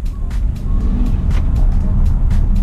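Inside a 2020 Ford Escape Hybrid SUV, the combustion engine cuts in under hard acceleration, heard as a steady, loud low rumble blended with road noise, with no talking.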